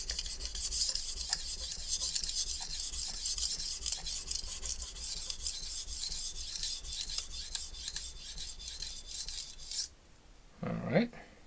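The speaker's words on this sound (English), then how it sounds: "So I'll let the stone and knife do the work at this point." A utility knife blade of fairly soft steel rasps back and forth on a Shapton Glass whetstone in a steady, close, rhythmic scraping that runs for about ten seconds before stopping, followed by a brief low knock.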